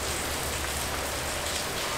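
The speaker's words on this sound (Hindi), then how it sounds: "तो आगे का जो हमारा प्लान है तो मोस्टली सब फ्लॉप है क्योंकि इतनी ज़ोरदार बारिश है" Heavy monsoon rain pours down near Rameshwaram in a dense, continuous hiss of drops striking surfaces, loud and even throughout with no voices over it.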